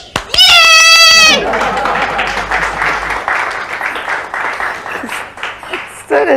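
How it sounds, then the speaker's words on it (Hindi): An audience claps in a lively, sustained patter for several seconds beneath voices, opening with a short harmonic bleat-like cry before the clapping rises and then thins toward the end. "आप ताली सुनिए ना"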